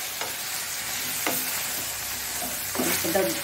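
Brinjal sautéing in hot oil for a Mangalore-Udupi style badane kai saaru, with a steady close sizzle broken by a few sharp clinks of a stirring spoon against the pan.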